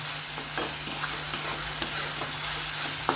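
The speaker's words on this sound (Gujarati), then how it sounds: "થોડી ડુંગળીને બધો મસાલો ચડી જાય 2 મિનિટ ખાસ ગેસ ઉપર ખાવા દઈએ" Onion and capsicum with masala sizzling in oil in a pan on a gas stove, steady frying hiss with soft periodic scrapes of a spoon stirring, close and continuous.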